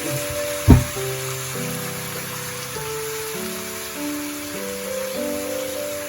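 Gourd leaves hit a hot pan with a sharp thud, then a steady sizzle of frying continues under soft, tuneful background music.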